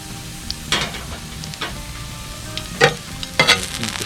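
Steak bones laid onto a grate over a hot bed of B&B lump charcoal in a Weber kettle grill, with a soft steady sizzle broken by several sharp clanks and scrapes close by; nobody talks.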